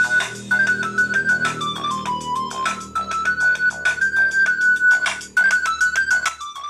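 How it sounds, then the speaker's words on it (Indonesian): A longer, upbeat built-in musical ringtone plays continuously and loud from a cheap budget phone's speaker, a steady melody over a quick pulsing beat. "Kita cek suaranya dengan ringtone yang lebih lamaan."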